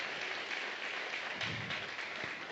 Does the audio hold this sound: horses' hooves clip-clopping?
no